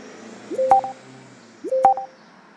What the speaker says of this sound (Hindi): ये तो अमित भैया का फोन है।